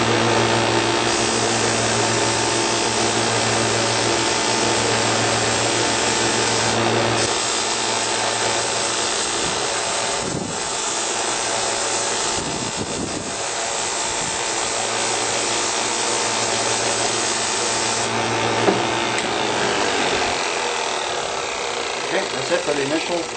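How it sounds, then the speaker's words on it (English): Steady hissing rasp of a power sander on a wooden cigar box guitar neck, continuous and close, with brief pauses and shifts in pitch. "that's it for the initial sanding"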